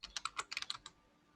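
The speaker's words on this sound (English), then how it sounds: "Let's go ahead and start typing in there, Jonathan." Quick bursts of typing on a computer keyboard, about a dozen crisp close key clicks in an uneven rhythm, then stopping into near silence.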